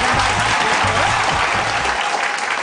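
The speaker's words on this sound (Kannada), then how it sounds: "ಆಶಿಕ ಅವರು ಈ ಒಂದು ರೌಂಡ್ ಅಲ್ಲಿ ಗೆದ್ದಿದ್ದಾರೆ, ಬನ್ನಿ ಜಾಯ್ ಚಪ್ಪಾಳೆ." A studio audience on a Kannada music game show claps loudly and steadily, dense applause filling the whole moment without pause.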